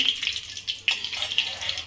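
Curry leaves frying in hot oil crackle and spit in a series of sharp pops over a soft sizzle, with a faint voice underneath.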